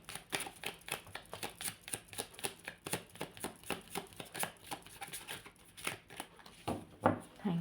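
Tarot cards being shuffled by hand in a quiet room, a steady series of crisp riffling flicks and soft slaps, close and moderately loud, with a brief murmur of movement near the end.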